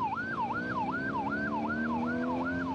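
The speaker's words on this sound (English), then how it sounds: "With lights and sirens on," An ambulance races through the streets of Budapest with its siren wailing in a steady rising-and-falling cycle, loud and close, carried over a low road and engine rumble.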